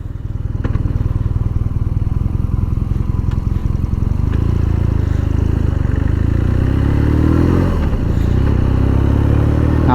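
A BMW R nineT Scrambler motorcycle rides along with a loud, steady engine drone close by, its low rumble rising and shifting pitch as it accelerates through gears over several seconds.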